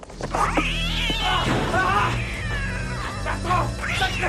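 A cat meows and caterwauls in long, drawn-out wailing cries, loud and close, in a dramatic scene from a French horror anthology film.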